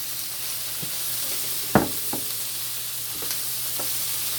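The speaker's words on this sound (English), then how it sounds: "I'm gonna add the peppers, the garlic, the tomatoes, some carrots here" Peppers, garlic, tomatoes and carrots hit a hot pan for white pasta and shrimp, with a steady loud sizzle broken by several sharp utensil knocks and scrapes; no one speaks.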